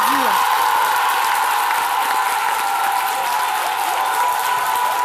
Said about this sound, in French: la fédération des coiffeurs de Yamoussoukro, que je vous demande d'applaudir